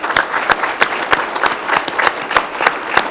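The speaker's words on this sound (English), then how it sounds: "Can I get another round of applause for these two guys?" Applause from an audience honoring two elementary school students at a city council meeting, sounding as a run of sharp, evenly spaced clap bursts close by, with no talking over it.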